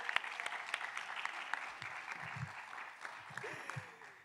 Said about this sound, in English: Let's clap it up for that.